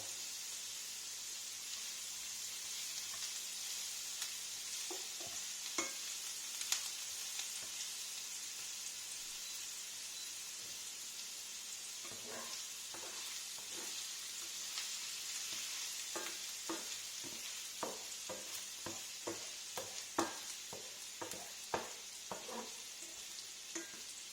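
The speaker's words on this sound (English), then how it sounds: "and I will stir it. all together. This for 1 minute more." Paneer cooking in a frying pan with a little ginger, a steady soft sizzle with scattered scraping clicks and taps of a spoon stirring through it, fairly quiet and close.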